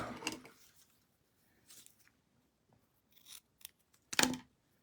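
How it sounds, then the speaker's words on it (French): Several quiet snips of scissors cutting through ribbon, spaced irregularly, ending with one louder, sharper cut. "On va couper le ruban."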